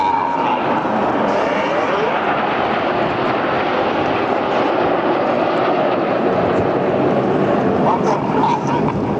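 Red Arrows jets roar loudly and continuously overhead at a seaside air show in Clacton-on-Sea, Essex, with a spoken commentary running underneath.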